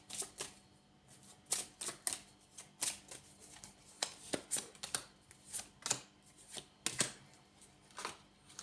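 Angel Whispers oracle cards being shuffled by hand, a run of crisp close snaps and riffles in irregular bursts, fairly quiet with no talk.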